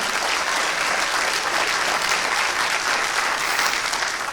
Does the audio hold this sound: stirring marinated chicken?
no